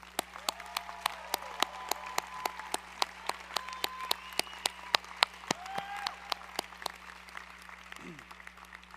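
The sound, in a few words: commencement audience giving round of applause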